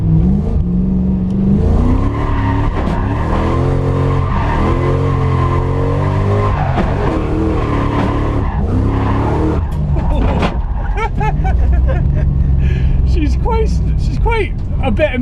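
A Lexus IS200 with a 1UZ V8 swap drifts, its engine revving hard and wavering in pitch while the tires squeal and skid continuously and loudly throughout.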